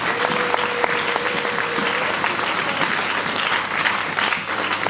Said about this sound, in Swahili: Chapia Bwana Yesu makofi.